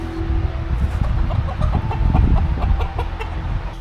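Wild bird near a winter camp in Glen Lui in the Cairngorms, giving a run of clucking, fowl-like calls close by over rustling outdoor background noise, fairly loud and irregular.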